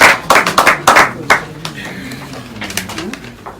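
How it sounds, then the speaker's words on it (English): Scattered hand claps from a small audience at an Ohaneze Ndi-Igbo gathering in South Africa, a few sharp bursts up close that thin out, with a pigeon-like cooing and a low voice underneath. "An applause, ladies and gentlemen."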